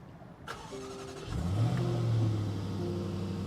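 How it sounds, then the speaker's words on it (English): A 2023 Jaguar F-Pace SVR starts by push button: a click, a short starter whir, then the engine catches with a rising roar and settles into a steady, loud idle rumble. "Let's see if we can hear it fire up."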